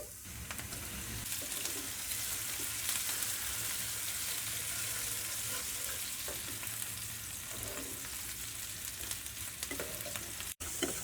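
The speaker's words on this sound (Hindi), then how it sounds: "हल्का सा हम इसको फ्राई करेंगे। अब हम इसमें 1 चाय का चम्मच लहसुन डाल देंगे।" Garlic and onion fry in a pan for dal kababs, a steady, close sizzle with recurring scrapes and stirring strokes that continues throughout, no voices present.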